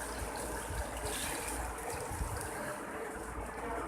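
Strained tamarind extract is poured into an onion-tomato gravy cooking in a pan, giving a steady, close liquid trickle and splash with a continuous hiss and no talking.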